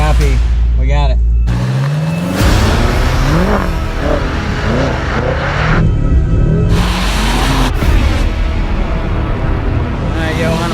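A BMW M5 holds a long drift, its engine revving high and wailing with rising and falling pitch while tires roar and squeal continuously, loud and close, with voices talking over the noise.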